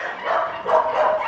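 A dog gives a couple of drawn-out, whiny barks close by, tonal and fairly loud, running into each other.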